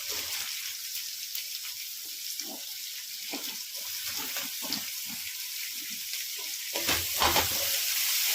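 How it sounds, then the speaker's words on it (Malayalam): Sliced onion drops into hot oil already holding ginger and garlic for an egg biryani, giving a steady sizzle with scattered stirring clatters and a louder burst of frying near the end. "നമുക്കതിലേക്ക് അരിഞ്ഞു വെച്ചിരിക്കുന്ന സവാള ചേർക്കാം."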